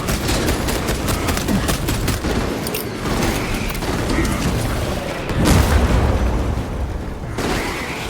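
A grenade explodes amid continuous gunfire in Warhammer 40k Space Marine 2, a heavy boom landing mid-clip over rapid dense bursts of shots and mechanical clatter.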